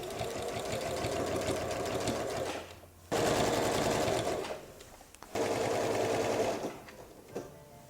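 A sewing machine stitches a straight quilting line in three bursts of rapid, buzzing mechanical whir, each running for a few seconds with brief pauses between, loud and close.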